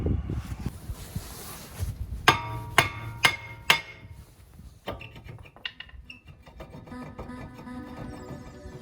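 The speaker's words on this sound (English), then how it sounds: "take the sledgehammer, strike it on the backside" Sledgehammer hitting the back of an Acura RSX front brake rotor, four sharp metallic clangs in quick succession, then a few lighter knocks and rattles, close and otherwise quiet.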